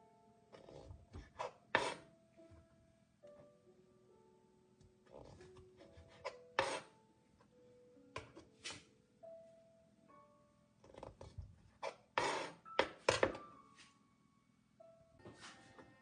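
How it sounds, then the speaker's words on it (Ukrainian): A knife cutting cherries in half on a board, with bursts of close slicing and tapping clicks in irregular clusters separated by quiet pauses. "Беремо черешню, ріжемо на дві половинки."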